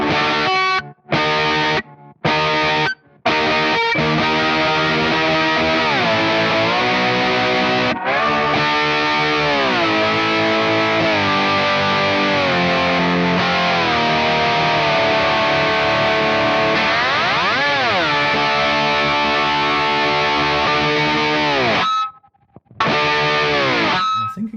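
A Revelation RLS-DLX lap steel guitar is played through effects pedals, including a Shub SP2, producing sustained distorted chorus-laden slide tones that glide up and down, loud and continuous after a few brief opening notes.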